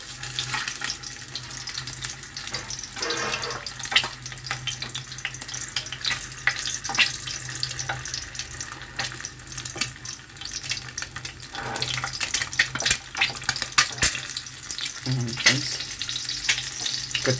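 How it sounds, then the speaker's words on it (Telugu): Three eggs boil in a pan, giving a close, steady bubbling and crackling wash of water that runs the whole time, with one brief spoken word. "ఇక్కడ 3 ఎగ్స్ అయితే మనకి బాయిల్ అయితే అవుతున్నాయి."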